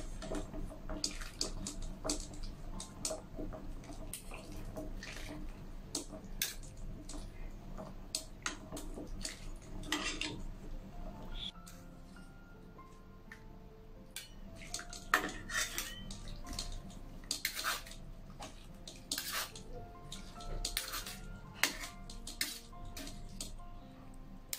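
Mango pulp pressed and squashed through a strainer, a continuous stretch of close clinks, scrapes and rattles of metal utensil against strainer and bowl, with some wet splashy texture and no talking.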